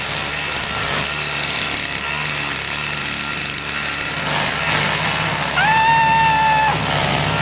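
A snowblower clearing snow after a February blizzard runs steadily up close, its broad engine drone constant throughout with a short rising whine near the end.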